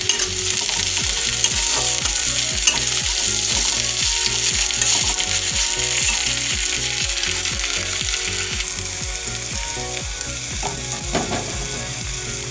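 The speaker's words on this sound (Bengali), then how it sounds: "আদা রসুন পেঁয়াজের সাথে আমি এবার ভেজে নেব।" Crushed garlic, ginger and onion fry in a pan for an aubergine dish, with a loud steady sizzle and regular scraping strokes of stirring close up throughout.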